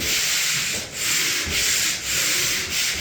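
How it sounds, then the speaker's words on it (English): Sandpaper on a pole sander rubbing over primed interior walls in steady up-and-down strokes, a loud, close, rhythmic scratchy hiss with brief pauses between passes. "go ahead and pole sand them first"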